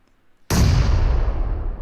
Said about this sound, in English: So nades are being thrown at.